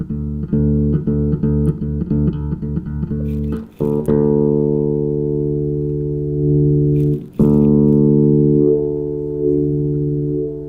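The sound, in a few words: electric bass string with frequency sweep knob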